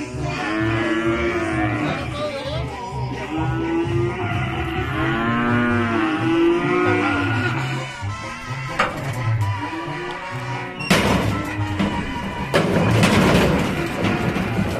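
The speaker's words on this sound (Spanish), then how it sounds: "ya hay bastantes toros, hay bastantes toros. Muy buen ganado." Cattle low repeatedly at a traditional rodeo as bulls are gathered, several long moos close by, followed by thumps and knocks of animals moving in the pens.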